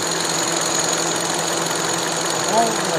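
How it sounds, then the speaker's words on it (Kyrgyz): A Kia Rio car engine idling with the hood open, a steady close mechanical hum and light knocking rattle throughout, with a brief faint squeak near the end. "мынау мотордун иштеп турганын көрүңүздөр"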